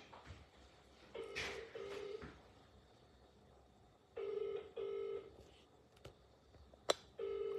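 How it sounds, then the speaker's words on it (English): Phone ringing on a call placed from a computer, quiet repeated two-part ring tones in short bursts with gaps, alongside a faint click. "Oh. It's ringing."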